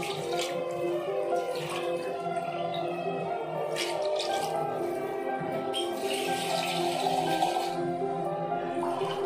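Water poured into a cooking pot for homemade chicken biryani makes a continuous splashing, trickling stream that runs steadily for several seconds, close and moderately loud, with no talking.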